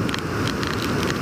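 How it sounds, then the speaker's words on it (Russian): Spray from Victoria Falls on the Zambia–Zimbabwe border comes down like rain through thick mist, a steady broadband hiss with faint patter that fills the whole stretch evenly and close around the listener. "Ты просто стоишь под дождем, в тумане."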